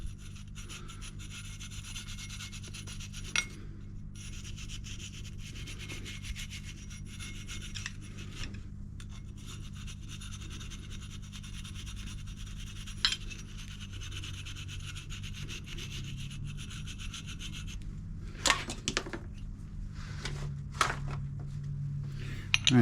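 A pipe cleaner scrubs grime out of a zero-turn mower part, producing a faint, continuous close rubbing and rasping with occasional small clicks, under low background hum.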